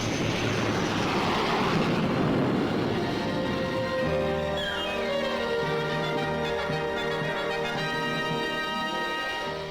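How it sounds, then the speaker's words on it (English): A damaged U.S. Navy Skywarrior bomber roars in for a crash landing on an aircraft carrier, its loud engine drone rising and then shifting pitch steadily as the jet closes in, with no voices. "the damaged Skywarrior attempts a crash landing"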